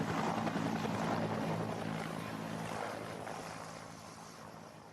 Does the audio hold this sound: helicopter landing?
yes